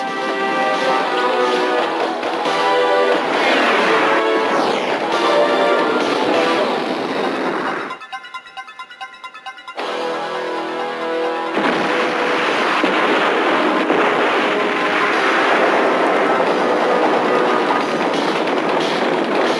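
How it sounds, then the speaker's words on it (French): An anime spaceship's engine runs at full power, producing a loud, dense roaring rumble that drops away briefly into a thin, crackling gap before the roar resumes and builds again. "Moteur à pleine puissance."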